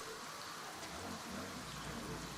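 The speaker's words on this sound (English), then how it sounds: "Well, why is it raining upwards? That's freaky." Steady rain hiss in the video game Ghostwire: Tokyo, a dense, even wash of falling water with a faint low rumble beneath, continuous and uniform throughout with no voices.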